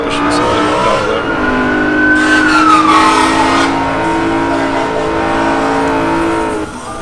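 Race car engine held at full throttle in the video game Forza Motorsport 4, a loud, steady high-pitched roar that sweeps up and back down in pitch, sustained throughout with no talking.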